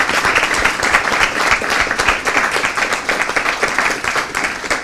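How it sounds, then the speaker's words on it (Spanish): Students give a guest speaker a round of applause at a lecture event, loud dense clapping from a packed room that holds steady throughout. "le van a brindar un aplauso a nuestra"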